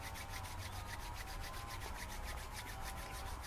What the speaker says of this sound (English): rubbing the palms together to create a bit of heat